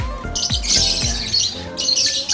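Lovebirds, a group of about fifteen waiting to be shipped, give bright, sharp chirps and tweets in quick bursts, loud and close, with a few lower squawks mixed in.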